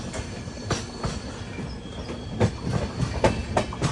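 The Patna Express rolls into Katpadi Junction station, steady rumbling with rhythmic clickety-clack wheel clunks over rail joints growing more frequent, heard from aboard the train without voices.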